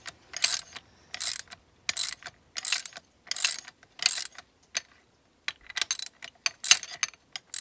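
A regular hand ratchet loosens a camber plate bolt on a Mini Cooper S R56, giving repeated crisp bursts of clicking in a steady back-and-forth rhythm, close and clear.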